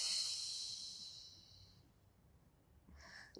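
A long, soft exhale through the nose and mouth during a relaxing Pilates stretch, breathy and close, fading out, followed by a short quieter breath near the end.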